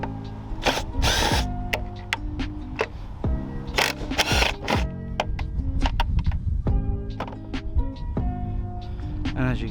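A power tool rattles and hammers at three 13mm hub bolts on a car's strut assembly, with loud repeated bursts of impact chatter and metallic clanks broken by short pauses.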